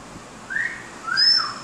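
A person whistles two quick rising-and-falling notes outdoors, the second higher and longer, clear and close over a faint background hum.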